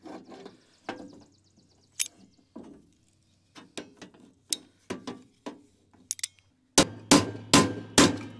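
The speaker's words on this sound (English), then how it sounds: "Just took that cold chisel and broke the clip off the end." Sharp metallic hammer blows strike a cold chisel against a steel clip while fitting auxiliary hydraulics to a compact tractor; scattered single taps give way to four heavy, evenly spaced strikes near the end.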